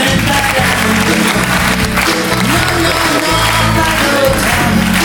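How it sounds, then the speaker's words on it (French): A television studio audience applauds continuously, a dense, loud wash of clapping with crowd noise underneath and steady low music or murmur. "On l'applaudit, merci."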